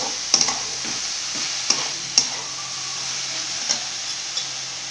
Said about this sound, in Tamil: இப்போ தக்காளி கட் பண்ணி வச்சுருக்க தக்காளி ஆட் பண்ணிக்கோங்க. நல்லா கலந்து விட்டுக்கோங்க.